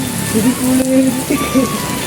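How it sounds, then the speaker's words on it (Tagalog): Heavy rain pours steadily, a dense continuous hiss close by under shelter, with faint voices and tonal noises mixed in over the downpour. "Grabe, lakas ng ulan dito."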